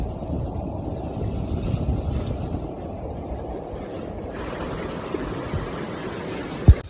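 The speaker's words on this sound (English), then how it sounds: "It's the old Hughes River." The Hughes River rushes beneath a bridge in a steady broadband wash of flowing water, moderately loud and constant, with a faint thump near the end.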